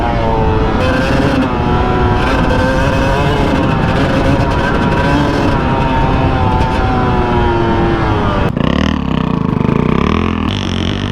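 A Honda CR250R dirt bike ridden on trail roads, its engine droning loudly and continuously with shifting pitch, then abruptly changing tone near the end as the ride turns rough.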